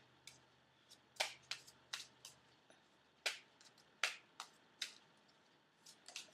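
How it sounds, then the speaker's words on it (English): Tarot cards are shuffled by hand for a personalized reading, producing a series of crisp, close riffling snaps and flicks in irregular bursts with quiet pauses between. "I'm shuffling here, and I'm kind of allowing the cards to find themselves"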